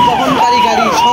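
A passing hearse sounds a loud wailing siren, its tones sweeping up and down repeatedly in close, continuous cycles.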